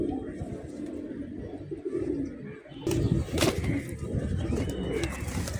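Giribaz pigeons cooing in low, throaty, rolling murmurs from several birds at once, steady and moderately close, with a brief louder burst of rustling or wing movement partway through.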